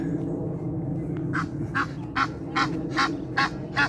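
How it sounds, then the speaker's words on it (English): Ducklings on the River Thames along the Thames Promenade near Reading give a run of about eight short, evenly spaced quacking calls over a low outdoor hum. "These very friendly ducklings."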